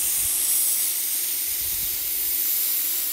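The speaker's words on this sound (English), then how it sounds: "I'm gonna quickly release the steam." Steam hisses loudly and continuously from a pressure cooker during a quick release while mustard greens with pork hamhock cook, a steady bright rushing jet with faint low rumbles beneath.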